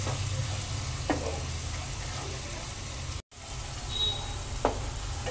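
Spices and Kashmiri red chilli frying with tomatoes in a pan for a no-onion, no-garlic vrat potato curry, a steady close sizzle with a couple of soft stirring scrapes and a brief gap midway.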